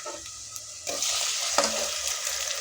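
Chopped medium tomatoes drop into golden-brown onions frying in a pan for a white chickpea curry, setting off a steady close sizzle with stirring and spoon scrapes throughout.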